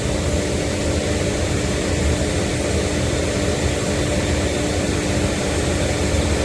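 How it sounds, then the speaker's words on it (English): A CNC router spindle on a Onefinity Foreman runs as a steady, loud, continuous whine and roar, with a constant tonal hum throughout and no pauses. "Spindle's firing up"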